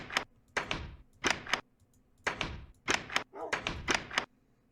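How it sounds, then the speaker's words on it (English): A wooden door in the video game Minecraft Beta 1.7.3 opens and closes again and again, each action a crisp, hollow thunk, about eight in steady close pairs with brief silences between. "I just like the noise of the door a lot better."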